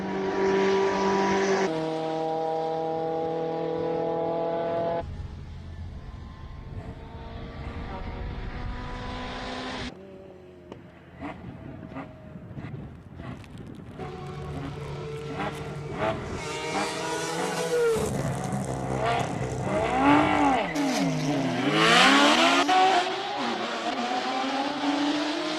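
A Mazda RX-7 with a 20B rotary engine races past at a classic car speed event in Cape Town, its loud, buzzing engine note rising and falling as it revs and shifts, with crowd noise and a commentator's voice heard briefly.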